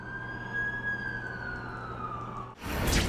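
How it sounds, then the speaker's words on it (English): An ambulance siren in The Amazing Spider-Man 2 video game wails as one long, slowly falling tone. A loud burst of broadband noise cuts in near the end. "That's the ambulance I called."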